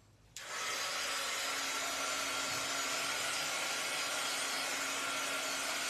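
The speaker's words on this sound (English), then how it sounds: "what you're going to do then is take your heat tool" A heat tool blasting hot air over freshly inked paper to dry it, starting abruptly after a brief quiet moment and then holding a loud, steady, broadband whoosh with a constant low motor hum to the end.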